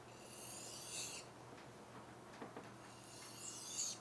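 A butter knife is sharpened with a few faint scraping, rasping strokes, one near the start and others toward the end, set against quiet background noise.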